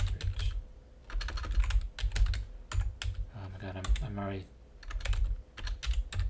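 Rapid clattering keystrokes on a computer keyboard come in bursts with short pauses, close and fairly quiet, while a voice speaks briefly in the middle.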